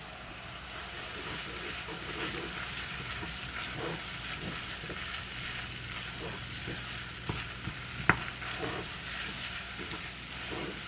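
A keto stew bubbles and hisses steadily in a pot, a close, even simmer with faint scattered clicks and one brief sharp tap late on, and no voices.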